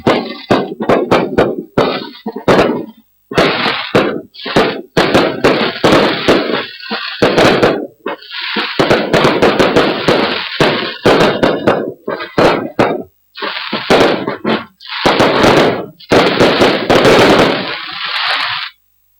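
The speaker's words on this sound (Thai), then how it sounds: "อันที่เฮาหันนี้ถ้าตามปัจจุบันว่าพลุเมืองเหนือเฮาฮ้องว่าบอกไฟดาว" Northern Thai bok fai dao star fireworks go off at a Buddhist cremation ceremony at a temporary crematorium at Wat Suan Dok, a loud, dense run of sharp bangs and crackling bursts in rapid clusters with brief gaps between volleys.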